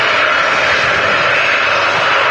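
A Singapore Airlines Airbus A350 jet takes off in the rain at Manchester Airport. Its engines give a loud, steady, close roar that holds unbroken throughout.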